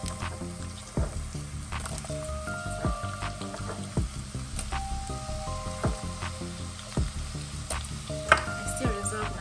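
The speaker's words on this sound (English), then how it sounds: "So I'll start by frying my onions." Onions fry in oil left over from browning meat, a continuous close sizzle with crackles and occasional stirring scrapes in the pan.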